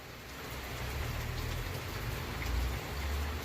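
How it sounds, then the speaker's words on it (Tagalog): Steady rain pattering on surfaces around a pigeon loft, a dense continuous hiss with low rumbling underneath, no voices. "Umuulan na naman, oh."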